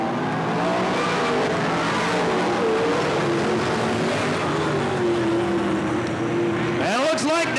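Sprint cars roaring around a dirt speedway in a steady, loud wall of engine noise, pitches rising and falling as cars pass, with an announcer calling the race over it.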